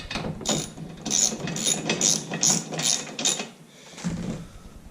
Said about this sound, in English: You wouldn't have to use this ratchet wrench.